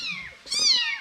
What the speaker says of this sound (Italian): adesso vi faccio vedere i gattini